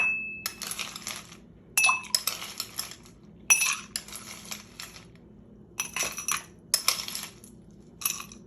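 Ice cubes dropped into a cup for a non-alcoholic mint margarita: a series of bright clinks and clatters in irregular bursts, fairly close and clear, with short pauses between handfuls.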